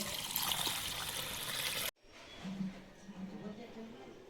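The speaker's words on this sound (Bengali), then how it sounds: "ডালটা ধুয়ে নেব।" Water runs and splashes while lentils (dal) are washed in a home kitchen, a steady loud rush that cuts off abruptly, followed by quieter trickling and dribbling.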